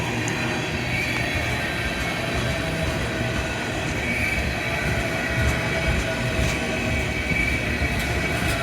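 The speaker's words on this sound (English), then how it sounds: "This was a tanker train." A CSX tanker train rolls past at close range, a steady, loud rumble of wagons and wheels on rail that holds without a break, with faint metallic squeals riding on top.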